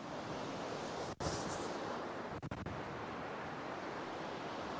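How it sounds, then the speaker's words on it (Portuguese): Strong cyclone wind roars steadily across a pine-shaded campsite, a dense continuous rushing with brief gusty dropouts, loud and close against the microphone. "o vento forte aqui é hoje o dia inteirinho"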